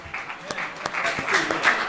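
Congregation clapping during a church service, a dense patter of applause with a few sharp louder claps standing out, fairly close and continuous for a brief stretch.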